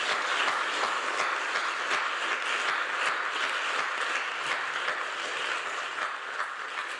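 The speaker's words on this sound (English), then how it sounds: "So with that fantastic, please, one more round of applause for Keesis." A poetry event audience applauds steadily with dense, continuous clapping that holds at an even level throughout, tapering slightly at the end.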